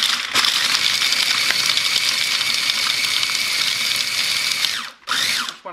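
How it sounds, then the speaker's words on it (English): A food processor roughly chopping nuts for pesto whirs loudly and steadily for about five seconds, with a whining, grinding tone, then stops briefly and spins up again for a short final burst. "So throw your nuts in there. We're going to process and just give it a rough chop."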